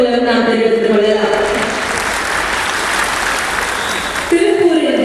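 Audience applause at a government welfare-assistance event held by the Tamil Nadu Chief Minister in Udumalaipettai, Tiruppur district: loud, sustained clapping from a crowd filling the whole stretch, briefly mixed with a voice near the end.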